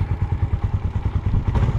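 A motorcycle engine idles at a repair shop while being checked, a close, steady low chugging pulse with some clattery mechanical rattle throughout.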